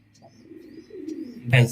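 Soft pigeon coos rise and fall, with faint chirps above, ending in a sudden louder burst of sound nearby.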